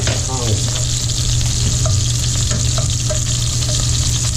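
Shrimp and sausage sizzle hard in a hot pan for paella, a loud continuous frying hiss with small scraping taps as pieces are turned over.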